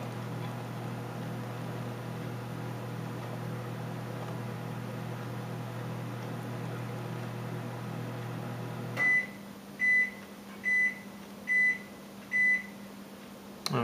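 A microwave oven finishes with five evenly spaced electronic beeps, clear and fairly close, after a steady running hum cuts off.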